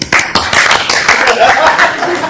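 A few people clap briefly at a public works and safety board meeting, scattered sharp claps mixed with chuckles and light laughter, close and fairly loud.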